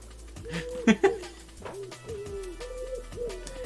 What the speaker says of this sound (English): it's the pigeons. Because I'm standing by them now, and they're making the sound